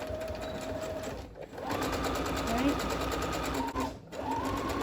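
Sewing machine stitching a seam along a fabric tote bag, a steady fast mechanical whir that runs in bursts with two short pauses where stitching stops and restarts, close and clear.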